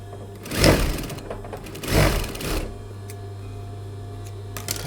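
A sewing machine stitches pinned pieces of a man's shirt, running in two louder whirring bursts over a steady mechanical hum, then settling into a quieter idle drone.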